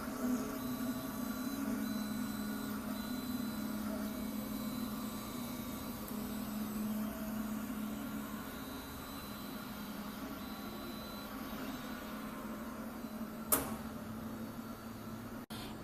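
A large MINGDA 3D printer runs steadily with a constant motor whine and hum at close range, its tone shifting slightly as it prints. A sharp click sounds near the end.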